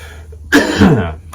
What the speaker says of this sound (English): So coughing.